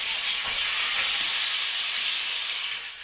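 Flounder fries in butter in a frying pan, giving a steady, loud, close sizzling hiss that holds evenly and then eases slightly near the end, with no talking.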